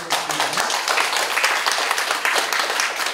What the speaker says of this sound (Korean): 우리 최정수 목사님 다시 한번 감사의 박수를 드리겠습니다.